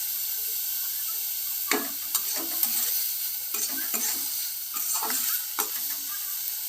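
Meat stuffing for pointed gourd fries with a constant hiss in a pan while a spoon scrapes and stirs it in irregular clattering strokes close by.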